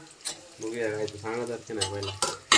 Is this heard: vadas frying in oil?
yes